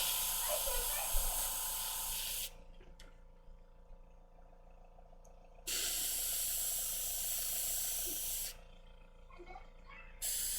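An airbrush sprays paint onto a Thanos model in two sustained bursts of steady, close hiss, with a quieter pause between them and a third burst starting at the end.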